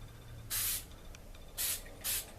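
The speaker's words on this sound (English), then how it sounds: "you got to be careful not to spray too much on there" Spray paint hissing from a can onto a plastic model in three short, sharp bursts, the first longest, close and clear against a quiet room.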